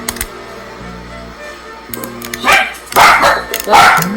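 Several dogs bark in short bursts nearby, growing louder and more frequent toward the end, over a quiet background with faint household sounds.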